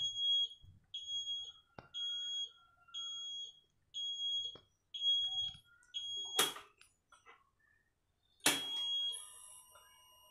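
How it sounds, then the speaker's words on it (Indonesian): A custom alarm on a Honda CB150R motorcycle chirps in a regular series of short high beeps, then two louder, harsher bursts near the end, with small clicks in between. "setelah terhitung 12 detik tidak menekan tombol pas B maka alarm akan nyala seperti itu"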